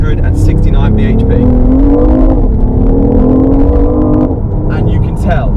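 A BMW i8 coupe hybrid, electric motors driving the front wheels, accelerates hard from a standstill, its engine note rising steadily through gears with loud, close revving and short shifts, while a voice talks over it.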